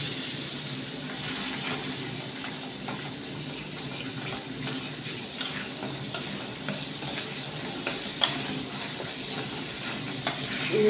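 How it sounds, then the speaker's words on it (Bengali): Water is poured into a gravy that is cooking in a pan, with a steady sizzle and stirring clatter that continue through the whole stretch, plus a few sharp utensil knocks. "আবার একটু জল দেবো।"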